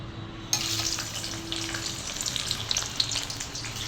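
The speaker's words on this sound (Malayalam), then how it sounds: "ഞാനിവിടെ കട്ട് ചെയ്ത് വെച്ചിരിക്കുന്ന ഒരു ഉള്ളി അതിനകത്തോട്ടങ്ങ് ഇട്ട് കൊടുക്കുക" Chopped onion dropped into hot oil that bursts into a sudden sizzle, settling into a steady close frying hiss with faint crackles and no voices.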